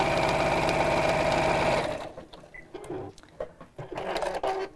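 A sewing machine runs at a steady, fast hum and clatter during a live sew-along, then stops after about two seconds, leaving quiet handling and faint background sounds.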